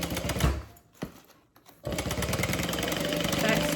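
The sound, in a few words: sewing machine back stitching a handbag seam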